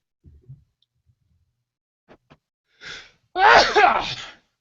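Two sharp sneezes burst out close up, the second one louder and longer, after a few quiet taps and murmurs.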